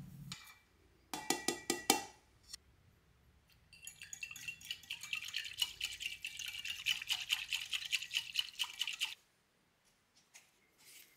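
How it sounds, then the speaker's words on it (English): Half a teaspoon of active dry yeast is whisked into water in a bowl, heard as short bursts of rapid metallic clinking, a pause, then a long steady run of fast whisking that stops abruptly. "Add your yeast to the water and whisk."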